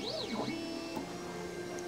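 An Ultimaker 2 3D printer beginning a print job sends out sweeping, rising and falling stepper-motor tones, followed by a steady whine with faint clicks, close and fairly quiet.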